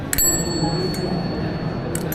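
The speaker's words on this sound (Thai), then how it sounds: "เป็นกระดิ่งแบบ กึ่งโบราณอะ่ะแนววินเทจ" A vintage-style bicycle bell on a bike at the Taipei Cycle Show trade fair gives two bright dings about two seconds apart, ringing over steady hall crowd noise.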